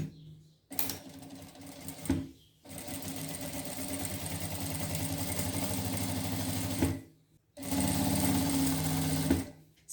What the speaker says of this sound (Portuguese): E vou fazer uma bainha aqui, uma bainha fininha